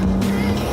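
BMW E36 M3 Evolution engine pulling hard through its rev range on an open road, a loud steady drone heard from inside the car across the whole moment.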